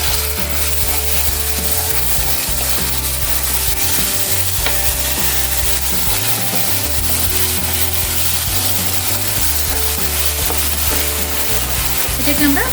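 Onion and ginger paste sautés in a pan for a spicy shol fish curry, a steady loud sizzle and fry with scraping stir strokes running continuously and close throughout.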